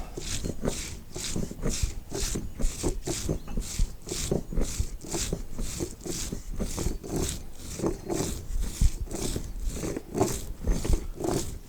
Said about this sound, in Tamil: இப்போ சீரகம் அரைக்கிறோம்